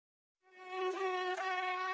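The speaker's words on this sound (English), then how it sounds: "I see a bee." A bee buzzes steadily and close, a sustained insect drone that starts after a brief silence and holds at even loudness to the end, with no other sounds.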